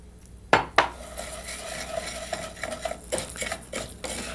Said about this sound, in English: We need to gently toast our rice for a couple of minutes.